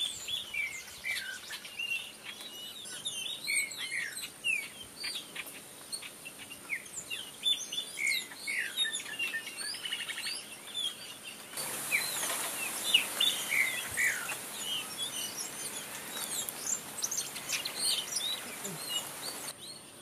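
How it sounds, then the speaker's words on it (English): Greyish baywings singing in the Brazilian Pantanal, a chattering flock of repeated bright, warbling phrases layered over one another at moderate distance, with other faint bird calls and a steady insect hiss underneath. "singing greyish baywings,"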